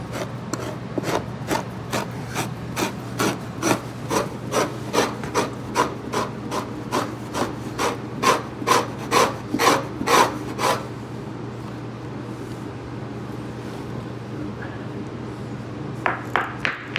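Rhythmic rasping strokes of a fleshing tool scraping fat off a beaver hide, steady back-and-forth passes that stop partway, then a few more strokes at the end, over a low hum.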